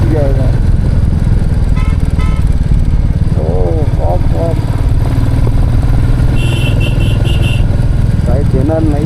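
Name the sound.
motorcycle engine riding on a mountain road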